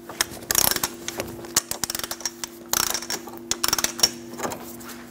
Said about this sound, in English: Torque the axle nut to 181 foot-pounds.